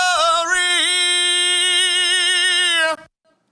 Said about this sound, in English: let's hear it with the phase out of whack